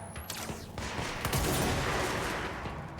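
Rapid bursts of gunfire in a first-person shooter video game fire at enemies, a dense, continuous volley of overlapping shots that stays loud and close across the whole stretch.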